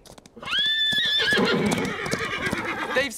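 Cartoon horses neigh loudly in a long rising whinny during a wild horse roundup, followed by a busy clatter of galloping hooves with more whinnying and snorts.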